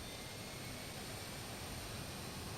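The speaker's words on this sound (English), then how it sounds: "Left engine starting up. Let's introduce fuel into the left engine now." A Learjet's left engine spins up in a flight simulator, producing a constant loud turbine roar and whine with a high steady tone, heard alone without speech.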